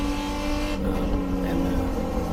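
A loud, steady engine roar with a strong low rumble and sustained harmonic tone from a race car's V8 Corvette LS6 engine running nearby at a race track.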